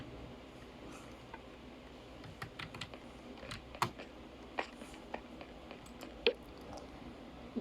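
Typing on a computer keyboard during a Minecraft game, a steady run of light, close clicks and taps with a few louder keystrokes standing out, no talking.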